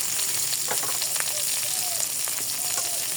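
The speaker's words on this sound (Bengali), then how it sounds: "আর এই তেলের মধ্যে আমি পেঁয়াজটা দিয়ে দিব।" Sliced onion dropped into hot oil for a jackfruit seed and meat curry, frying with a steady, bright sizzle and crackle, close and continuous, with a few light stirring scrapes and no talk.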